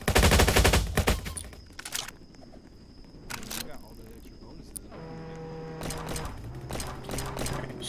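Rapid bursts of gunfire in the video game Jailbreak, a loud opening volley followed by sparser shots under a steady background hum and game sounds.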